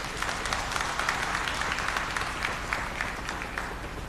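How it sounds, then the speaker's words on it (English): Audience applause at a public event with northern chiefs, a steady wash of many hands clapping at a moderate distance, sustained throughout and slowly tapering toward the end. "I think she deserves an applause."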